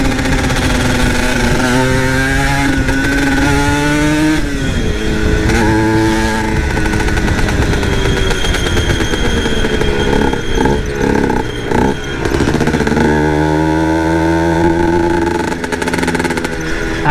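A Yamaha TZM motorcycle engine with its power valve working is revved hard up close, its loud, buzzing tone rising and falling through repeated throttle blips without any speech.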